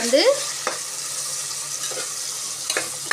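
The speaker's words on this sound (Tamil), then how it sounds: "கொஞ்சம் மஞ்சள் பொடியை போடணும், போட்டு நல்லா வதக்கணும்." Goat curry ingredients sautéed with turmeric in a pan give a steady close sizzle, with a few stirring scrapes and a brief clatter near the start.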